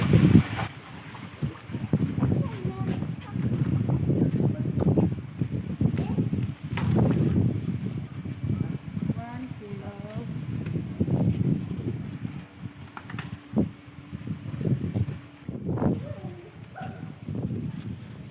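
Wind gusts buffet the microphone outdoors at a catfish and pangasius market in Camaligan, Camarines Sur, rising and falling in uneven rumbling bursts beneath faint background voices and activity.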